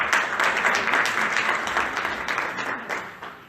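Audience applause at a Community Cohesion Day gathering, a dense, steady wash of many hands clapping that fades slightly toward the end.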